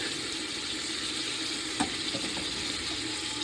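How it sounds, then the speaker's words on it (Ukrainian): Steady crackling sizzle of meat frying in an Afghan kazan, a continuous hiss with one brief clatter near the end and no voices. "Так, м'ясо будемо смажити до корочки."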